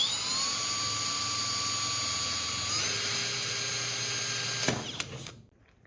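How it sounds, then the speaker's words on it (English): Power drill boring holes in a 1934 Chevy sedan hood for a hood ornament, a loud steady high-pitched whine that steps lower in pitch partway through, then spins down and stops. "there's the 3 holes drilled in this now"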